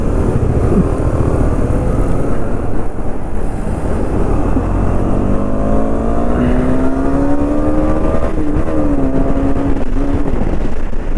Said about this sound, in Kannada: ಬಟ್ ಹೆವಿ ಗಾಳಿ ಇದೆ ಗುರು